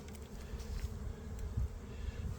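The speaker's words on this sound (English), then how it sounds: "The bottom board is covered with bees" Honey bees buzzing in an opened beehive with bees crowding the bottom board, a soft continuous drone close by with slight swells and no talking.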